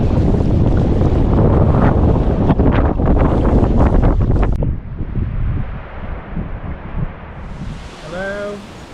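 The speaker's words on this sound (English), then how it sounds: "It's really windy now, and the rain's really starting to get heavy." Strong coastal wind gusting with rain at a seaside campsite in Wales, a loud broadband roar buffeting the microphone for several seconds, then easing to a lower rushing wash with faint tonal whistles near the end.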